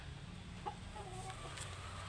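A rooster in a small backyard in Sauyo gives faint, brief clucks over a steady, loud background hum.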